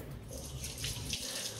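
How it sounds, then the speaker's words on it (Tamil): Cleaning brushes are washed under a running kitchen tap, a steady close stream of water with light splashing and rubbing over it, no talk. "அதுக்கப்புறமா இந்த ப்ரஷஸ் இதெல்லாம் வந்து நல்லா கழுவி வச்சிடுறேன்."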